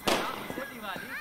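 Firecrackers burst at a Diwali-time celebration in a Hindi film scene, one sharp crack followed by a few smaller pops while someone talks.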